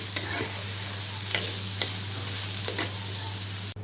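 Papaya ghonto fries in a pan with a soft continuous sizzle, punctuated by several sharp scraping clicks as a spatula stirs it, close and clear with a low steady hum beneath.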